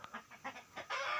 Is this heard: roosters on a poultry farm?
yes